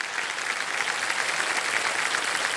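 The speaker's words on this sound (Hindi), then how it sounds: "तालियां बज जाए इनके लिए।" Studio audience on Kaun Banega Crorepati clapping for a contestant who just won 80,000 rupees, a steady, full burst of applause held evenly throughout.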